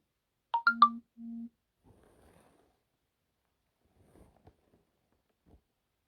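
A short burst of telephone tones opens a call: a quick rising three-note chime followed by two flat electronic beeps. Then comes near-silence with faint rustles.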